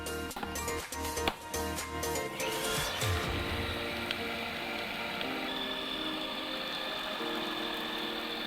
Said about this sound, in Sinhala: මම පාවිච්චි කරන්නේ ෆුඩ් ප්‍රොසෙසර් එකක්.